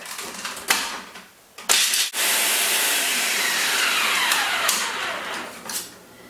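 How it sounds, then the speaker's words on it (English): Food processor grinding raw almonds into flour, a loud, steady whirring grind with rattling nuts, starting after a few short knocks and running continuously close by. "I'm going to grind these down to flour."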